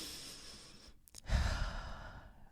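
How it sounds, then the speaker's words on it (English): A single deep breath taken close to the microphone, a soft inhale and then a fuller, audible sighing exhale, quiet and alone with no talking. "Just take a deep breath."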